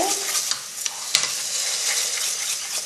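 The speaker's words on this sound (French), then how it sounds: "On va attaquer avec le riz" Rice toasting in oil in a pan for risotto, giving a bright, even crackling sizzle close by, with a few soft stirring clicks and no talk.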